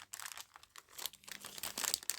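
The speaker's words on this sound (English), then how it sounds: "Hope you don't mind the crinkling of the plastic bag." A plastic bag holding foam pieces crinkles and rustles in repeated bursts, close to the microphone, with no talking.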